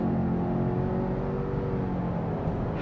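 A new Subaru Outback turbo accelerates at full throttle, its engine and road noise a steady, loud whirring drone heard from inside the car, with no talk.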